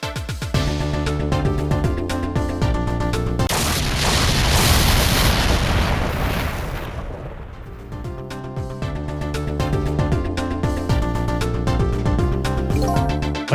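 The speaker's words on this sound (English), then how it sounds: "I think I heard an explosion somewhere." A booming explosion in the video game Ghost Trick: Phantom Detective swells into a roaring rumble that then fades, with loud game music playing throughout.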